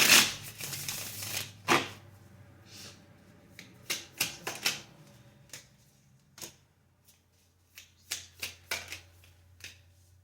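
A deck of cards is shuffled and handled in a quiet room, with a burst of riffling at the start followed by scattered sharp snaps and taps, close and fairly faint.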